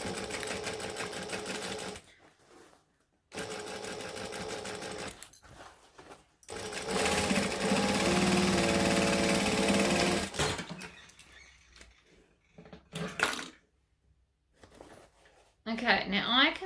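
A sewing machine stitches through the lining of a crossbody bag in several bursts, stopping and starting between short pauses, close and clear with someone talking in the gaps.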